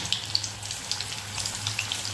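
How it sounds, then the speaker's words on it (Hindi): Marinated raw jackfruit pieces deep fry in hot oil, a steady, close bubbling sizzle with faint crackles throughout. "इस तरह से एक एक करके डाल के इसे हम अच्छे से एकदम डीप फ्राई कर लेंगे, क्रिस्पी करके"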